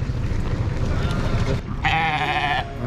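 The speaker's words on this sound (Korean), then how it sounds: "염소들 잘 가라." Goats in a rural Tunisian village bleat once in a short wavering cry over steady outdoor background noise.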